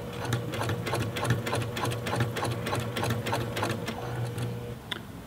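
A home sewing machine test-stitching on scrap fabric: a steady rapid mechanical whirring and ticking of needle strokes, close and continuous throughout.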